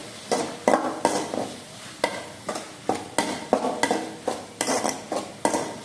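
Ingredients sauté in oil in a pan for a coconut milk fish gravy. A spatula scrapes and clinks against the pan in a regular rhythm, about twice a second, over a soft sizzle, with no talking.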